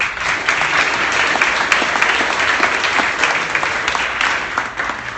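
Steady, dense applause from a seated audience at a startup pitch night, holding at an even level throughout with no voices over it.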